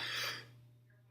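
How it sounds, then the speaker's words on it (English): A single sharp cough bursts out loudly at the very end, after a brief breath and near silence, from a teacher recording a lesson at a desk. "Apparently, I still have the cough."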